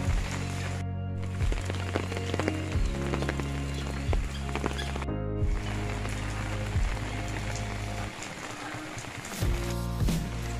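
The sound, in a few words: rain falling outdoors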